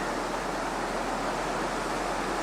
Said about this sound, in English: We're walking along the creek, the river now. So that's Otter Creek.